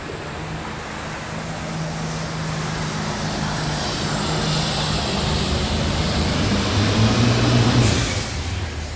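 A John Deere tractor engine drones at the 1993 National Farm Machinery Show, a steady, loud roar that builds gradually and swells near the end, with no talking over it.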